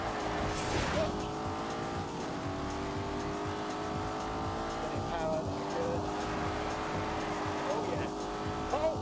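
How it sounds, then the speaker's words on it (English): A twin-turbo 4-litre V8 car with 510 horsepower in The Grand Tour video game revs and pulls with rising and falling engine tones and a brief tire squeal near the start, heard at moderate volume. "It's a 4-litre V8. It has twin turbos. It makes 510 horsepower."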